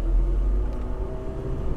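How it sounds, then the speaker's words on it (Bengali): A Ferrari passes on a road as a loud, low engine rumble that stays steady through the short moment, with no voices over it. "একটা ফেরারি গেল"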